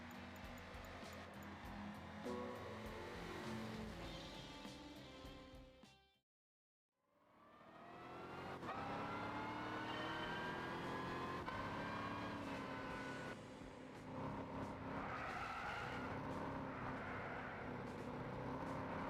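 A Chevy fitted with a semi-racing exhaust in Gran Turismo 6 drones loudly, its engine note rising and shifting through revs, cutting out briefly to near silence before building back up and carrying on steadily.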